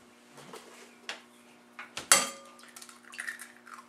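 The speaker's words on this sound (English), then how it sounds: "1 hard crack is what I like to do for eggs" A single sharp crack of an egg against a bowl in a home kitchen while making chocolate chip muffins, with light clinks and kitchen handling noises around it.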